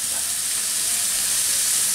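Mixed vegetables for a Chinese-style vegetable dish stir-frying in a pan over high heat, giving a steady, loud, close sizzle that runs unbroken throughout with no talking.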